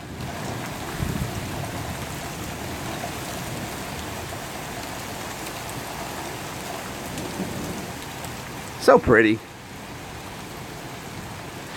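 Steady rain pattering on surfaces during a small thunderstorm rolling in, a soft continuous hiss with a brief sharp burst near the end; a voice speaks quietly once.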